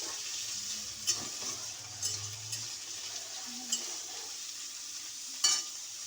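Vegetables fry for veg dal in a pan, a soft continuous sizzle beneath occasional scrapes and light clinks of a spoon stirring, fairly quiet and close with no voices.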